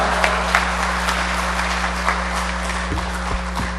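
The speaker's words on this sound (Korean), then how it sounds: "특별히 박수로 환영하겠습니다" A church congregation at a Methodist church in Augusta applauds to welcome a speaker: steady, dense clapping over a constant low hum, filling the whole stretch without a break.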